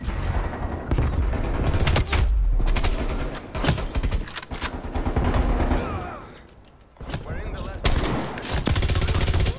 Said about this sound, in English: carrying around this big old LMG